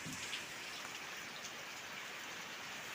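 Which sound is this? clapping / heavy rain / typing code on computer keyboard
heavy rain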